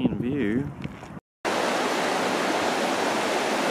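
A blue river in the mountains along the Icefields Parkway rushes in a steady, loud, broadband roar after a brief voice and a short gap at the start.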